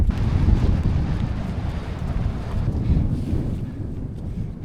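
Strong wind buffets the microphone on an exposed hilltop wild camp at Gray Crag, a loud, continuous low roar with gusty swells and no voices.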